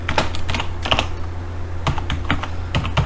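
Code being typed on a computer keyboard: quick clusters of close, crisp key clicks with short pauses between bursts, over a faint low hum.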